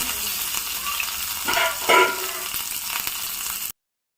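Onion dropped into hot oil with mustard seeds and curry leaves, a continuous close crackling sizzle that swells briefly into a louder hiss and splutter midway before cutting off.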